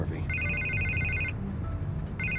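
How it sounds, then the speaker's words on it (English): An electronic telephone ringtone in Batman: The Telltale Series sounds in a long warbling ring, pauses, then starts again, moderately loud over a low ambient game backdrop. "I can't get the phone to stop ringing"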